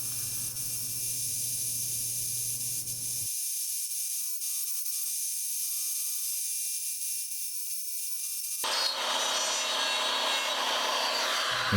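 A wood router cuts a square zebrano platter on a woodturning setup, giving a steady, loud machining roar throughout. It drops out abruptly midway, then returns with a harsher, brighter cutting tone.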